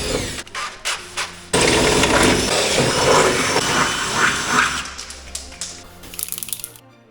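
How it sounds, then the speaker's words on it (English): A drill bores holes through the body metal of a 1980 Mk1 Golf GLi, a close, loud whirring grind with short bursts at the start and clattering near the end. "Now I'm going to mark the holes and drill through the metal"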